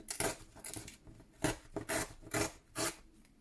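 Paper trimmed along its top edge by hand for a journal, giving a series of short dry rasping tears and rubs, about eight quick strokes in uneven rhythm, close and fairly quiet.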